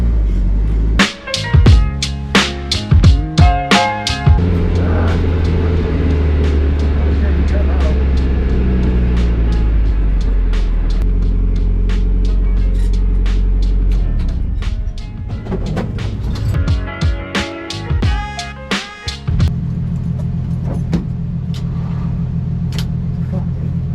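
Drift car at a drift event, its engine roaring loud and close in sustained revving bursts with sharp spikes and a steady low rumble, fading in the middle stretch before surging again.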